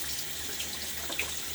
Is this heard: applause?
no